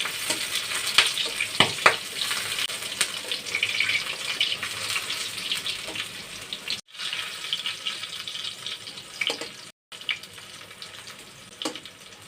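Gentle sizzling of pointed gourd pieces frying in oil until reddish, with occasional stirring scrapes and clicks, close up and moderately quiet.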